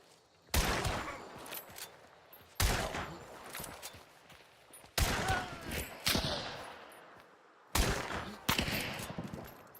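Gunfire in the Hunt: Showdown video game: four loud volleys of rapid shots, each a sharp burst followed by trailing crackle and echo, spaced a couple of seconds apart.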